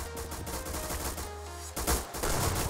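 Gunfire in a first-person shooter video game comes in a short cluster of sharp, rapid shots. A brief lull in the middle gives way to a louder burst near the end.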